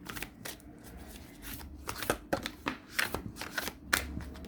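Tarot cards are shuffled by hand in a quick run of crisp riffling and slapping bursts, close up and without speech.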